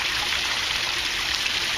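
Water squirts steadily from small holes drilled in an aquaponics pipe, pouring into a fish tank with a continuous close hiss and splash and no pauses, with no voices over it.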